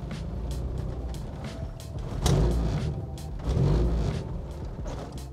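A car with a lightweight flywheel pulls out onto a street, its low engine lugging unevenly near stalling, with two louder surges of revs over a steady rumble and no talking.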